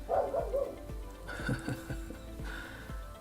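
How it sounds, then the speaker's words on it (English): A dog barks several times in short bursts, somewhat muffled and set back from the listener, over a low background hum. "Barking dog."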